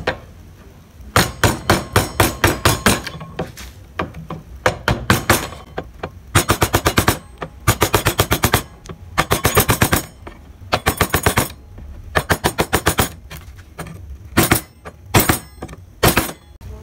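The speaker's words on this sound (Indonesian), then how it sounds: "Jadi menggunakan pahat kol." A gouge chisel driven by a mallet carves a barong motif into wood, giving loud, close bursts of rapid sharp knocks separated by short pauses and repeated across the whole stretch.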